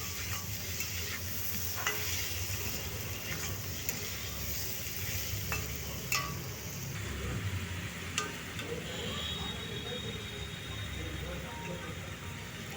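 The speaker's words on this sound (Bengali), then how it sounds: "কাঁচা লঙ্কা আর একটা গোটা টমেটো দিয়ে ভালো করে এগুলোকে ভেজে নেব।" Green chilies and a whole tomato fry in oil in a pan for mustard-paste fish curry, giving a steady close sizzle with stirring scrapes and occasional utensil clinks throughout, no one speaking.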